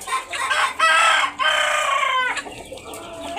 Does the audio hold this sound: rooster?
yes